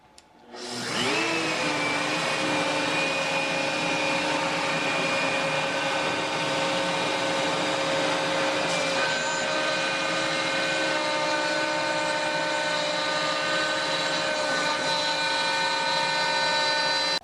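Shapeoko 5 CNC router cutting a wooden sign, a loud continuous high whine of the spindle that spins up at the start and then holds steady, with slight shifts in pitch as the bit cuts.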